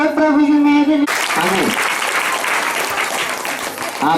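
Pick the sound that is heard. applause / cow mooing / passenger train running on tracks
applause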